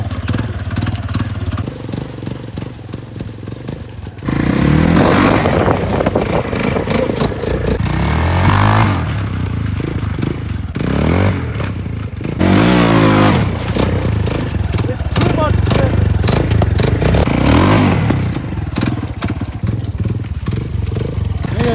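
Motorbike fitted with a paddle tire being ridden around, a loud close engine droning and revving in surges with rattling clatter throughout.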